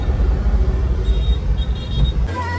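A car travels toward Barsana with a steady, loud low engine and road rumble inside the cabin, with a faint high whine partway through and a shift in tone near the end.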